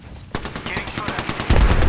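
Rapid automatic gunfire in the video game Apex Legends, a dense burst of loud close shots that thickens toward the end, with no talk.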